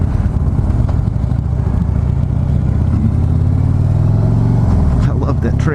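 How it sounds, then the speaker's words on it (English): A 2015 Harley-Davidson Street Glide Special rides in first gear, its loud engine rumble carrying a steady transmission whir and rising pitch, with a few sharp clicks near the end. "I love that tranny whir in first gear."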